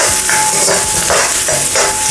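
Garlic sizzles steadily in a hot pan while being sautéed for beef and broccoli noodles, a loud continuous frying hiss with periodic stirring scrapes.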